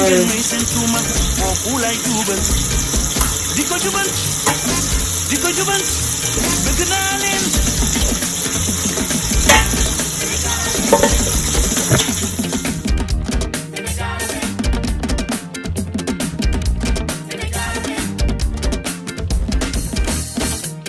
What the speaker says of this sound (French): Ensuite, vous mettez de l'eau dans votre marmite